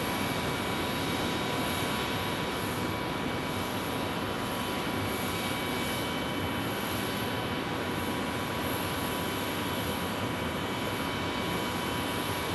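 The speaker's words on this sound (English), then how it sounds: "Checking out that A321neo." Airbus A321neo jet airliner at Phoenix Sky Harbor airport, a steady broadband engine roar heard from a distance, continuous and even throughout with no voices.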